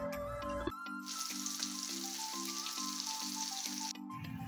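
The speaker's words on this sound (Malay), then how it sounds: "Ni apa nak goreng ikan masin pula." Hot oil sizzles and crackles steadily as salted fish fries in a pan, with a brief clatter at the start and a low hum underneath.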